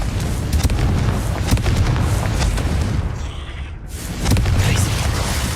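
A Confringo blasting spell goes off in a cave in Hogwarts Legacy, a loud rumbling explosion with a heavy low boom, a brief dip, then a second surge of crashing noise.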